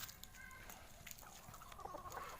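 Faint chicken clucks sound at a distance amid low outdoor background noise, with a few soft calls scattered across the moment.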